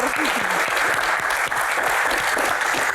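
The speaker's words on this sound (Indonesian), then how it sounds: "Tepuk tangan untuk Pak Tahir" A studio audience at a Q&A show claps for the guest, dense and loud applause running continuously and close.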